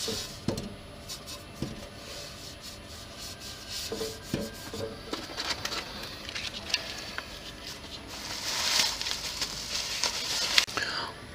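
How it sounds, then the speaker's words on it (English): Soft, rhythmic rasping of hand sanding body filler on a Suzuki GSX-R 1000 streetfighter motorcycle build, quiet strokes with scattered taps, growing a bit louder and brighter toward the end. "Okay, so that's enough sanding."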